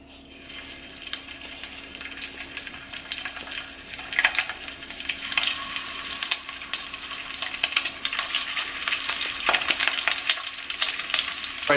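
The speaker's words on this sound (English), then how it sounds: "They're kind of sizzling right now" Sausages sizzling in a frying pan for zuppa toscana, with a steady crackling fry and scattered sharp pops and spatters, close up and moderately loud with a faint constant hum underneath.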